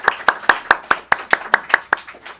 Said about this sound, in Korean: 우리 하나님께 영광의 박수 한번 올려드리겠습니다.